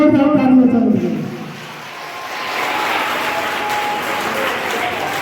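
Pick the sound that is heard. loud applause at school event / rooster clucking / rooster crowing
loud applause at school event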